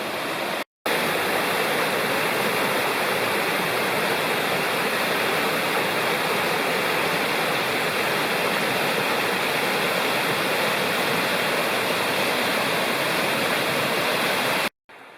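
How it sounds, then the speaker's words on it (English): Waterfalls and rapids rush along the Rocky Fork Trail in Rocky Fork State Park. The steady, loud roar of water continues unbroken and close, with very short cuts at the beginning and end and no voices. "the waterfalls and rapids start immediately after you leave the parking lot"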